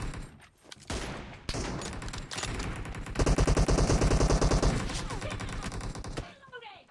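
Rapid bursts of gunfire in PUBG played on an emulator, loud and dense with sustained automatic fire, opening sparse then building to a heavy barrage before cutting off, with a voice occasionally talking over it.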